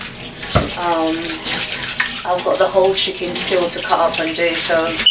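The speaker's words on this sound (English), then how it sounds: "Give my hand a quick wash." Water runs steadily from a kitchen tap as hands are rinsed after handling raw chicken, a close continuous splashing stream under a person talking.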